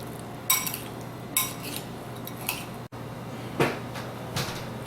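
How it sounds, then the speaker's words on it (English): A spoon clinks and scrapes against a bowl while bruschetta topping is mixed with extra virgin olive oil, with several distinct taps spaced over a few seconds in a quiet kitchen. "Now I'll mix this well"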